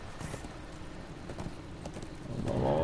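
Horse hooves clip-clop steadily in Darksiders 2, a steady trot at moderate volume, with a louder rushing swell building at the very end.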